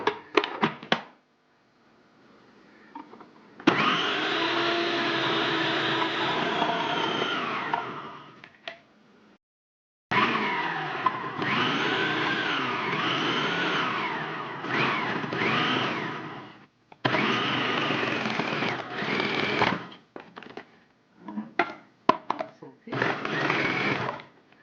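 A food processor chops pumpkin into small chunks, its motor whirring loudly in several long bursts separated by short silences, with brief pulses near the end.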